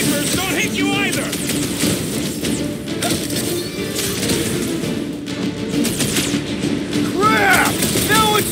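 Sniper gunfire and combat noise from the Guardians of the Galaxy video game form a steady, busy barrage of shots and impacts, with effects and voices mixed in.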